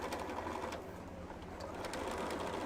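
Sewing machine running steadily while stitching a ruffled edge blanket, a continuous close whir with no talk over it.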